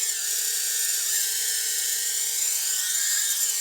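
Tiny ducted whoop drone motors at full throttle make a constant high-pitched whine that is loud, near and unbroken, and nobody talks over it.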